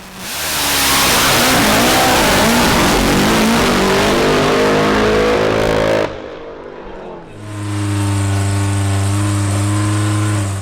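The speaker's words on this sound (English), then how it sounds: "The bike sounds a little bit fluffy though." Nitro Voodoo drag bike at a drag racing meeting in Perth, its engine revving hard and loud with a broad roaring rasp, then cutting back briefly before settling into a steady, strongly droning idle, close by with no talking.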